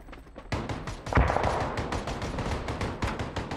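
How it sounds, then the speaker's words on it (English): An armed vehicle in a video game, touring Haven's city blocks, drives around shooting at players: dense rapid gunfire bursts with booming impacts, loud and continuous, swelling after the first half-second. "that, what we hear, is a vehicle that goes around and shoots at players"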